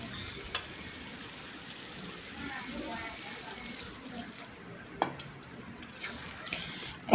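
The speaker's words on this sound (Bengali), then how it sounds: "এখন আমি পরিমাণ মতো পানি দিয়ে দিলাম।" Water pours into a pot of simmering village chicken and potato curry, a quiet, steady wash with a few soft splashes and clinks near the end.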